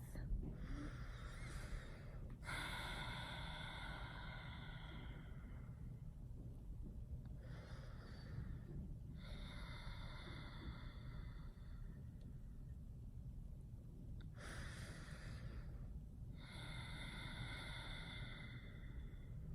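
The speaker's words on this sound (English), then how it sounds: "start off by breathing in the nose, out the nose, smooth, slow, controlled breath" Slow, controlled breaths in and out through the nose during a meditation exercise, heard as soft airy rushes that rise and fade in an even, unhurried rhythm, close and quiet.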